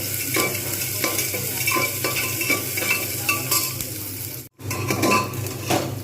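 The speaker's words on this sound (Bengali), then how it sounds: "এবার এর মধ্যে আমি দিয়ে দেবো পেঁয়াজগুলো এবং এগুলো লাল করে আবার কে ভেজে নেবো" Onions frying in a pan for an egg tadka, a constant loud sizzle with repeated stirring scrapes and clinks of a spatula against the pan and a short silent gap.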